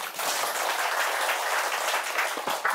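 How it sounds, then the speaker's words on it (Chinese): An audience at a lecture claps together in sustained, dense applause, close and fairly loud, fading slightly near the end. "鼓掌一下。"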